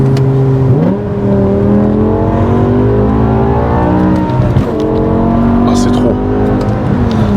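A BMW M5 E60 with its V10 engine roars from inside the car, the engine pitch climbing through the revs and jumping at each paddle-shift gear change, loud and continuous.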